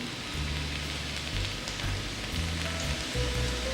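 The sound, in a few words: potato fries sizzling in ghee and coconut oil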